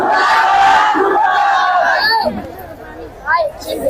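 A protest crowd in Nehru Colony chants slogans in loud, ragged unison, voices rising and falling together, then breaks into scattered shouts and murmurs as a voice cuts in.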